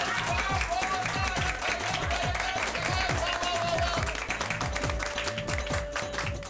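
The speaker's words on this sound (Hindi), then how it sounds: "इस बात पर चाचा जी के लिए जोरदार तालियां हो जाए" A family crowd in a sitcom scene breaks into loud, rapid clapping that keeps an even pace throughout, with a voice briefly audible over it.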